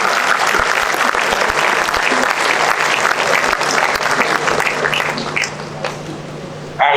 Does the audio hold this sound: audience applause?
yes